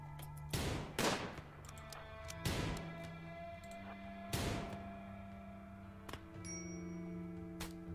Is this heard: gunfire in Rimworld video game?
yes